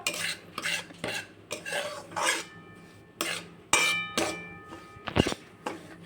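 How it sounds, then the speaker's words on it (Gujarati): Semolina (rava) roasts in a pan over a medium gas flame while a spoon stirs it in repeated scraping strokes with metallic clinks, close and fairly loud. "હવે આપણે મીડિયમ ગેસ ઉપર આપણે સોજીને શેકી લેશું"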